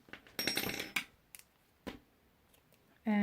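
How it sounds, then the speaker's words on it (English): Scissors snip crochet yarn at close range, a short rustling cut followed by a few faint isolated clicks, then a louder burst of handling noise at the end. "And now cut the yarn"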